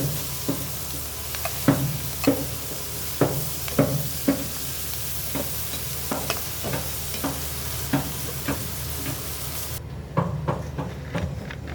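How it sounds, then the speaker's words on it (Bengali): Prawns fry in hot oil in a pan with a steady sizzle, punctuated by regular scraping clinks as the pieces are stirred and turned, close and without talk. "সব মাছগুলো উল্টে দিয়ে ভালোভাবে ভেজে নিব।"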